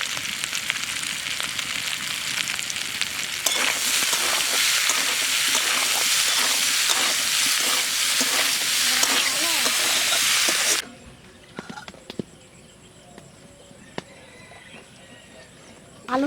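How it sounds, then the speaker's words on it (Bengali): Boiled potatoes with salt and turmeric fry in oil for Bengali aloo dum, a loud, steady sizzle for about eleven seconds that abruptly cuts to quiet kitchen clatter. "আলু ভাজা হয়ে গেছে, এখন তুলে নেব।"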